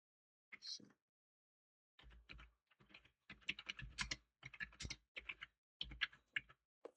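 Close, quick bursts of keystrokes on a computer keyboard as a Git commit message is typed in a terminal, with a short pause before irregular clattering runs of keys that continue to the end, with no voices.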